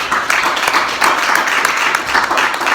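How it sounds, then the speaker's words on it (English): A lecture hall audience breaks into loud, dense, sustained clapping that holds steady throughout. "A big round of applause for Jeff."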